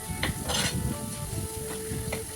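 Shallots and dried red chillies tempered in hot oil for a bitter gourd pachadi, giving a steady close sizzle with a few light clinks and stirring scrapes of a spoon against the pan.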